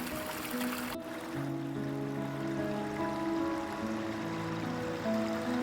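A small stream flows beneath an arched stone bridge on a wooded detour toward a spring-fed chapel fountain, giving a steady close babble and trickle of water with sustained tonal hum-like layers, continuous throughout with no talk.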